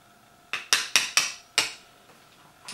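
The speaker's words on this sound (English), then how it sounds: "grab the tip of one of the bullets here, hammer it down a little bit" Five sharp metallic hammer taps ring out as a pin is driven from a KWA LM4 gas blowback airsoft rifle, struck in a quick uneven series close by in a quiet room.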